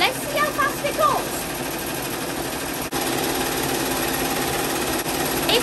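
A Happy Japan HCU embroidery machine stitching at full speed, around 1,050 stitches per minute: a loud, continuous, rapid mechanical chatter that holds steady throughout, close by.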